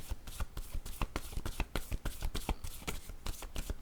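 Tarot cards being handled as a new card is drawn, with crisp repeated flicks, slaps and riffling taps in a quick, uneven rhythm, close and fairly loud with no talking.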